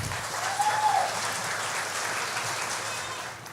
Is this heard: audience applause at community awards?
yes